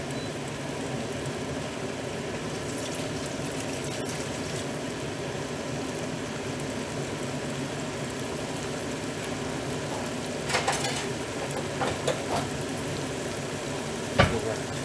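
Chicken breasts searing in a very hot pan, a constant crackling sizzle with a few louder spits and pops near the end, heard close up with no talk.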